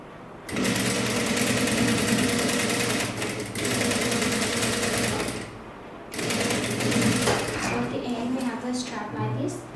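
A sewing machine stitches a sleeveless top in loud, steady bursts, running for a few seconds, pausing briefly, then starting again, with a dip in the middle and near the end.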